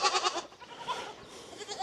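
Dairy goats bleat in a noisy, overlapping chorus, several wavering cries close to the microphone with no talking.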